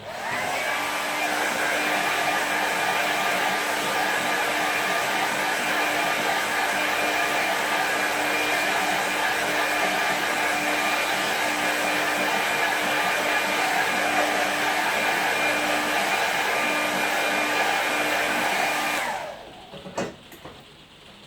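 Hair dryer blowing on watercolour paint, a loud steady whirring roar with a constant whine held close for nearly twenty seconds before it switches off and the sound drops away abruptly.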